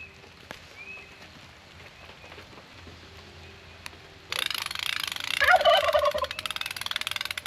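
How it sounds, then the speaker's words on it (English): Heritage breed turkeys gobble in a burst of warbling calls amid steady rain pattering on a surface, after a quiet stretch with faint background noise. "I can talk about and look at the turkeys for a second."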